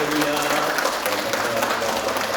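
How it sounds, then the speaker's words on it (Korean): A church congregation claps in welcome for two newcomers at a Sunday service, a dense, steady round of applause with voices mixed in. "우리 박수 한번 하겠습니다."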